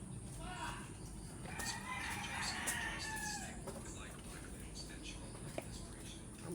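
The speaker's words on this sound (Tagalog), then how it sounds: "Ang iingay po ng mga manok nila." Backyard chickens and roosters on a rainy morning, a loud nearby crow mid-clip amid scattered clucks and further distant crowing over a constant background hiss.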